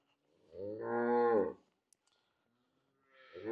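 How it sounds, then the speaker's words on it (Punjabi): A black dairy cow gives a long, loud moo from close range, followed by near silence with a small click, then a second moo begins. "ਇਹ ਦੋਸਤੋ ਕਾਲੀ ਗਾਂ ਆ ਗਈ ਹੈ"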